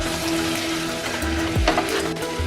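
Chopped onions cooking down in a pan for French onion soup, giving a steady close sizzle with brief clinks and scrapes of stirring partway through.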